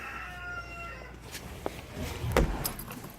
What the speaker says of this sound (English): Don't mind the chickens in the background.